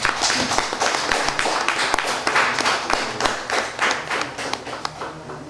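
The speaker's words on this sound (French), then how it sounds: "son Excellence, Monsieur Anis Pépé, que je vous demande d'applaudir très très fort." An audience at an artists' association general assembly claps loudly, a crisp, fairly sparse flurry of individual hand claps that keeps up before slowly tapering.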